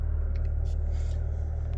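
A car engine idles at about 750 RPM shortly after a cold start, giving a steady, close low rumble with an even drone and no revving.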